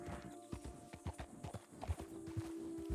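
Horse hooves clip-clop at a steady walking rhythm in Red Dead Redemption 2, close and fairly clear, with a brief whinny-like tone and soft game ambience underneath.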